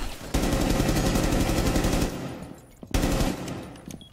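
Automatic weapon fire in the tactical shooter Rainbow Six Siege, a loud, rapid, sustained burst lasting about two seconds, then a short pause and a second close burst.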